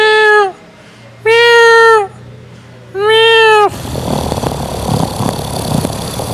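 A person imitates a cat meowing, three drawn-out, whiny meows in a row, loud and close, followed by a rough, noisy rumble.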